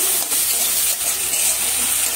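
Capsicum and spring onion stir-frying on a high gas flame, a loud continuous hiss and sizzle close up, fairly even throughout with no talking.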